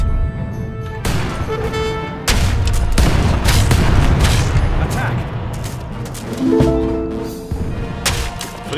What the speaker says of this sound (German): Und die Kanonen geben Saures.